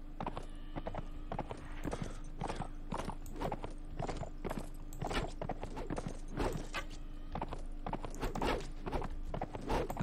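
Horse hooves clip-clop steadily at a riding pace in the Mount & Blade video game set in Imperial Rome, a continuous close rhythm of repeated impacts with an occasional faint whinny and no talk.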